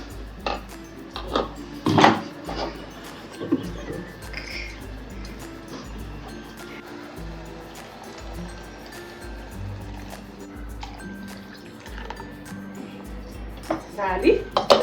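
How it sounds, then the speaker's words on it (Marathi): A mixer grinder jar is washed by hand at a kitchen sink, with clinks and knocks of the jar against metal and dishes over running water and splashing, while someone talks throughout. "मिक्सरचं भांडं धुवून घालते"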